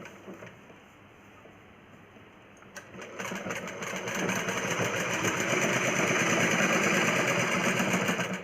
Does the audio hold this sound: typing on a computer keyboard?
no